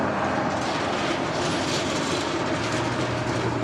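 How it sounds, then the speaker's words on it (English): A Boeing C-17 military transport arrives at Honolulu airport as a loud, continuous broadband jet roar with a low rumble beneath, steady and close for the whole moment. "There's a C-17 coming in."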